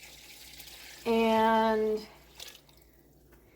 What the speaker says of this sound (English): So I've got one of my Tupperware bowls full of water here